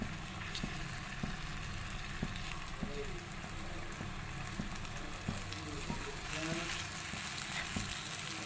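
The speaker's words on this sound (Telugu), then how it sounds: "ఇప్పుడు దోశలు వేసేస్తున్నా" Dosa batter sizzling on a hot pan, a steady close crackle with light tapping pops scattered through it and faint background hum, no speech.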